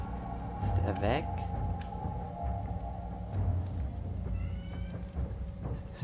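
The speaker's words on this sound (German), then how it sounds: "Charlie, hör auf zu miauen" A cat named Charlie meows in a horror game, a few short cries rising over a busy, layered game soundscape with low rumbles and a voice talking underneath.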